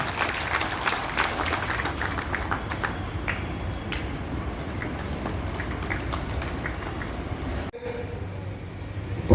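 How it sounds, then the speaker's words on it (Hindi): Applause from an audience at an NGO welfare event rolls on as a steady, dense clatter for several seconds, cuts off sharply near the end, then briefly resumes, with voices mixed underneath. "तालियों की गूंज में"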